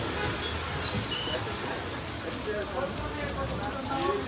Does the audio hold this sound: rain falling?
yes